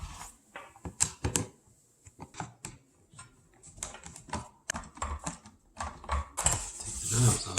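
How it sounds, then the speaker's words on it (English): Small screws being backed out of the radio knobs on a 2001–2005 Honda Civic dash, heard as close, irregular clicks and light metallic ticks from a driver, scattered through with short pauses and a busier flurry toward the end. "Take these screws out here."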